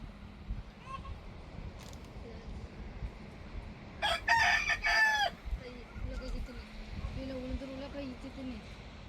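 Chickens cluck and a rooster crows loudly partway through, with ducks, scattered bird calls and people talking in the background around them.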